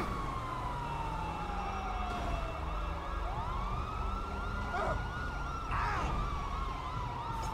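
A wailing video game ambulance siren in GTA V sweeps up and down continuously, loud and close, with a rumbling engine underneath and no voices.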